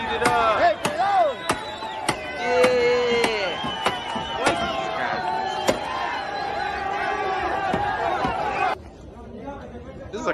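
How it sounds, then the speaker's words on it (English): A Portland street crowd beats up a car, and repeated sharp bangs and thuds land irregularly amid loud shouting and chatter. The blows stop near the end, leaving quieter crowd noise. "Beat the shit out of that car."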